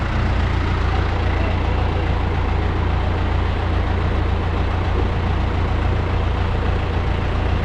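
A farm tractor pulls away from a trailer weighbridge, its heavy diesel engine a loud, steady low rumble that stays constant from start to finish with no other sounds.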